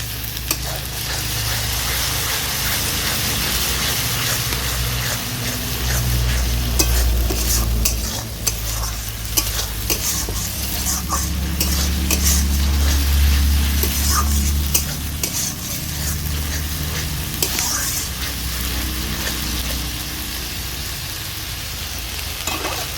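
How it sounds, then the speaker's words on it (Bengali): Tomato paste sizzles and fries in a pan over ginger-garlic paste for a rajma masala, with steady loud frying hiss and repeated spoon scrapes and stirs against the pan throughout, no voices. "এবার এতে আমি দিয়ে দেব টমেটো বাটা"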